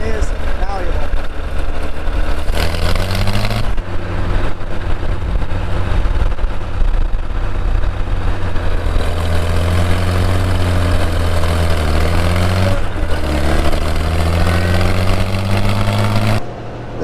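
A 706 gas tractor engine runs steadily and loudly nearby with a deep, constant drone and pitch shifts as it changes speed, while someone talks over it.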